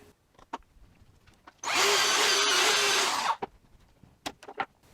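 A power drill bores pocket holes into wood in one loud, steady burst of about two seconds, with quieter clicks and handling sounds before and after.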